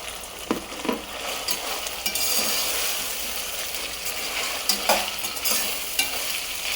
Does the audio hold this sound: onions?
yes